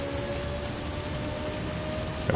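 Rain falls across the Spa circuit in Gran Turismo 7 during a GR3 race, a steady hiss of downpour over a faint low engine hum, with a brief sharper burst at the very end.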